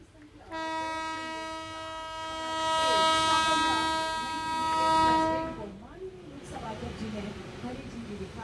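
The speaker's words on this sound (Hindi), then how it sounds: "सोगरिया रेलवे स्टेशन पर उन्होंने हरी झंडी इस ट्रेन को दिखाई" A passenger train bound for New Delhi blows a long, loud horn as it departs Sogaria railway station after a flag-off, with the rumble of rolling wagons following.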